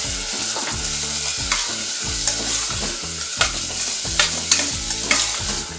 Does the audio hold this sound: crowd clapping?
no